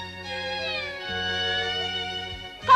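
A stray cat in a Malay-dubbed Doraemon cartoon meows in one long, drawn-out, wavering cry lasting nearly three seconds, loud and close, with a sharp rise at the very end.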